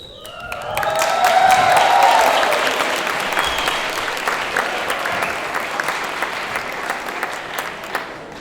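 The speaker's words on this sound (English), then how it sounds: "That's the most applause I will get all evening" Audience at a 2021 school senior banquet breaks into loud, sustained applause with a few cheers and whistles at first, then settles into a steady clapping that tapers off over several seconds.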